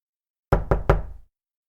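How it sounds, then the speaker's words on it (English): Three sharp knocks on a door in quick succession, close and loud, each ringing briefly, then silence. "there was a knock on the door."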